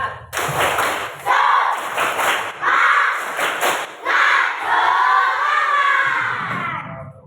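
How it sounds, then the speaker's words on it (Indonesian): A class of fifth-grade elementary schoolchildren performs a rhythmic spirit clap, loud bursts of group clapping and chanting voices in short patterned phrases with brief pauses between. "Coba tepuk semangat"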